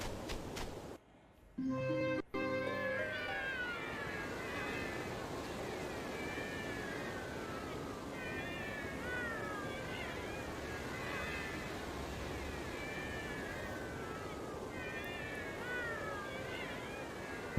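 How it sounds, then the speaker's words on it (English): Many cats meow over and over in the Bravely Second video game. Their overlapping, wavering cries keep coming in clusters above a dense, steady background bed. A short burst of other game sound comes at the start. "Wow, look at all these cats."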